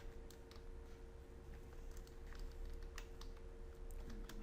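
Keys clatter in an irregular run of light clicks as code is typed on a computer keyboard, close and steady throughout, with a low hum underneath and no voice.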